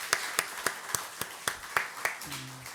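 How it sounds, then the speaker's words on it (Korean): A church congregation claps in a slow, even rhythm of about ten claps, the sound crisp and moderately close before a short voice at the end. "자, 다시 한번 청년들 격려하면서 박수 한번 하겠습니다."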